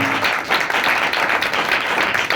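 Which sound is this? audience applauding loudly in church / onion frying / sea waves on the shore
audience applauding loudly in church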